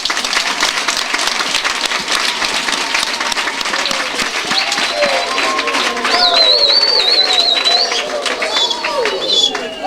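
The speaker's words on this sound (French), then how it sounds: "Est-ce que nous pouvons applaudir pour le chef de l'État?" Crowd at a public event in honour of the head of state applauds loudly and continuously, with whistles and cheering voices rising over the dense clapping in the second half.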